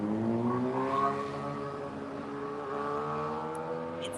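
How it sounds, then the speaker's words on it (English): Motorcycle passing outside, a muffled engine drone with rising harmonic tones that swells early, then eases off while it stays steady in the background, heard from indoors with no voices. "Excuse the motorcycle on the other side."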